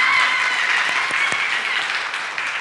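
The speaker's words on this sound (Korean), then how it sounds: "우리 환영으로 박수 한번 하겠습니다" A church congregation applauds in welcome, a steady wash of many hands clapping together that fills the room evenly and fades slightly toward the end.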